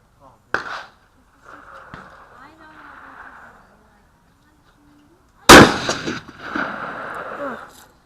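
Two sharp gunshots at an outdoor shooting range, several seconds apart, each loud and close with a short ringing decay, with people talking in between.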